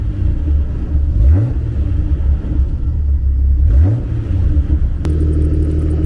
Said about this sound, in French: voilà le bruit de ma Jeep